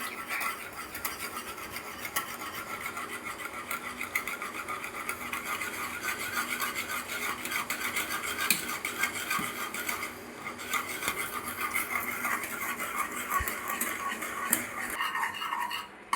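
Pearl millet flour being whisked into boiling water in a cooking pot for kambu koozh, a steady close scraping and rasping of the whisk against metal that runs without pause and without talk.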